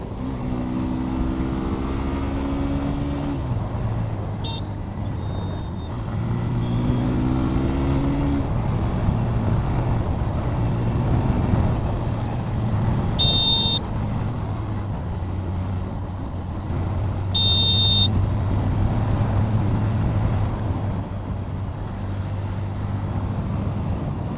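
A Hero Glamour X 125cc motorcycle ridden at high speed, its steady engine drone rising in pitch through gear changes, with wind rush and a few brief electronic beeps.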